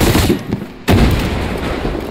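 Gunfire rings out in the Far Cry 6 first-person shooter during a firefight over a container. Loud shots and booms come in a rapid cluster, drop away to a brief quiet gap, then return with a heavy blast and continued firing.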